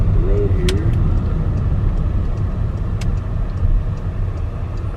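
A 2019 Porsche Cayenne S cruises on the road with a steady low engine and tyre rumble, a smooth continuous drone inside the cabin with a couple of faint clicks.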